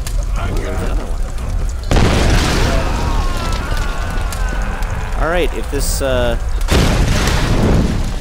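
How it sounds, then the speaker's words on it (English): Tomb Raider video game explosions boom and crackle in loud bursts that blow up enemies, mixed with game sound effects, while someone talks over the action. "these explosions want to keep blowing these dudes up"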